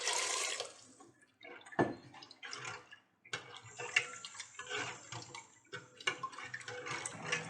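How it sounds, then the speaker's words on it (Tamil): Water pours into horsegram rasam in short, uneven splashes with little drips and clinks between them. The sound is close and soft, with no talking. "தேவையான அளவு தண்ணி சேர்த்துக்குங்க."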